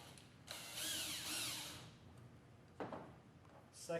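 A power driver whirs a screw into a drop-in bedliner on a 2015 Ford F150, one faint whining burst of about a second and a half followed by short quieter mechanical clicks.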